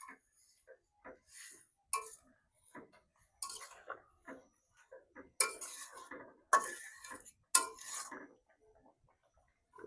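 Fried taki fish is stirred in a cooking pan with a spatula, heard as soft, irregular metallic scrapes and clinks, some sharper taps, fairly quiet and close.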